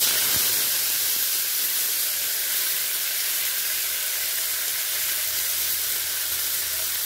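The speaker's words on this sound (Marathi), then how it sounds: "आता त्याच्यामध्ये आपण ही मेथी टाकून घेऊ" Fenugreek leaves sizzling in hot oil with popped mustard seeds, a loud, steady frying hiss that holds evenly for about seven seconds with no talking.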